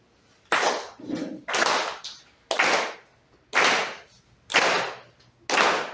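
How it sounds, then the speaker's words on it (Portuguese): An audience at a spiritist talk claps together in a steady rhythm, six loud, even bursts of clapping with short pauses between them, close and without talk. "vou pedir aqui, ó, para nós batermos palmas assim, aqui, ó, nesse ritmo."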